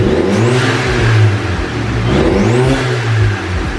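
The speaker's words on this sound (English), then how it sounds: "go and buy a blow valve if you want your car to sound like this." A Stage 2 tuned Audi A5 2.0 TFSI engine revs up and drops back twice, each rise ending in a sharp blow-off valve hiss of released pressure, loud and close with no talking.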